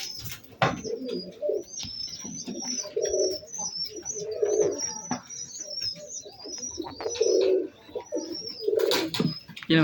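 Mardin pigeons coo in low, repeated bursts inside a coop, nearby and fairly clear, with soft chirps, rustling and occasional knocks between calls.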